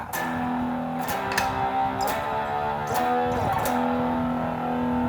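A heavily distorted electric guitar through a Flamma FS06 preamp pedal, set to a Mesa-style drive, plays sustained crunchy chords with a few sharp attacks, gritty and loud throughout.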